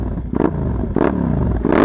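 A warm motorcycle's exhaust note rises in three short, loud revving bursts over a steady, close idle rumble.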